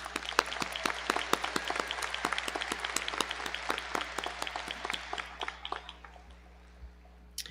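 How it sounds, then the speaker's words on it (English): Audience applause at the Monroe Community College 2023 commencement ceremony, a steady patter of many hands clapping that stays fairly distant and thins out toward the end, with no talk over it. "Let's give these guys a round of applause."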